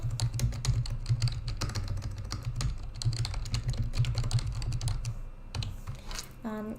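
Fast typing on a computer keyboard while entering text into an educational lesson-creation tool, crisp close key clicks in an uneven stream with a brief pause near the end.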